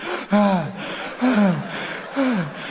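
A voice imitates panting, three loud, rhythmic breathy gasps with a falling pitch, close up.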